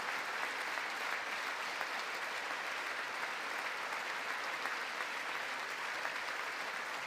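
Sustained applause fills a congressional chamber during a presidential address to Congress, a dense, steady wash of clapping from a large audience with no voices over it.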